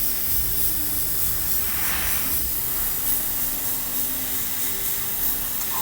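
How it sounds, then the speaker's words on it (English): An airbrush sprays Warcolours Turquoise 3 paint, making a steady, even hiss of air and paint that runs unbroken throughout, close and moderately loud, with no talking. "So having Warcolours Turquoise 3 loaded into the airbrush, what we're going to do, we're just going to glaze out the remaining white areas"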